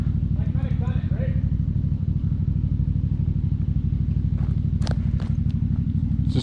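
A Can-Am X3 Turbo RR side-by-side engine drones steadily and loudly while climbing a hill, a constant low throbbing under brief speech and a few sharp clatters near the end.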